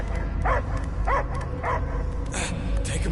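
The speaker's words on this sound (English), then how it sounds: "I hear only barking." A dog barks and yips several times in short bursts in the video game Guardians of the Galaxy, moderately close, with a voice speaking briefly near the end.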